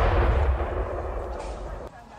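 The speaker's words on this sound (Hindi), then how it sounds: "अगर आपने सिनवार को हमास चीफ बनाया है तो ये है गाजा का बड़ा अटैक" Heavy artillery fire and explosions from an attack in Gaza, heard as a deep booming rumble that fades over about two seconds.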